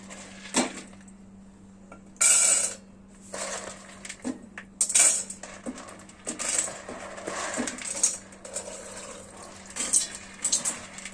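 A container set down into a cooking pot while making tempe, giving a few sharp metallic clinks and knocks with scraping and handling noise between them. The sounds are close and moderately loud, and there is no talk.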